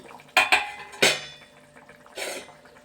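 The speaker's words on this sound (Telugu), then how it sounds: "ఇది మూత వేస్తాను." A metal lid set onto a cooking pot of curry simmering on low heat, a few sharp clanks in quick succession followed by a softer rattle a second later, close and clear.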